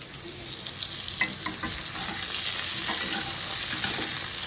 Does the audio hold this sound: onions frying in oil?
yes